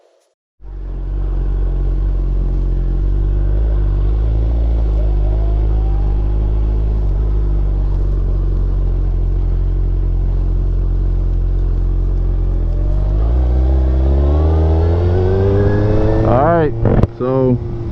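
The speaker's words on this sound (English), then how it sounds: "So this is the first ride on the 2022 Hayabusa." A 2022 Suzuki Hayabusa motorcycle engine drones loud and steady while riding, then the revs climb and sweep up and down sharply near the end.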